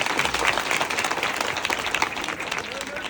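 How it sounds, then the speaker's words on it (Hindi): Loud audience applause at a spiritual discourse gathering, a dense steady wash of many hands clapping that fills the whole stretch without pause. "तालियां बजा दो जोर से।"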